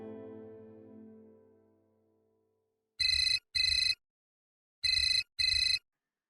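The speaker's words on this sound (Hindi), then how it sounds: "हेलो गौरी, बेटा तू फोन क्यों नहीं उठा रही?" A fading tone gives way to a phone ringing in two pairs of short electronic trills, clear and close, with silence between.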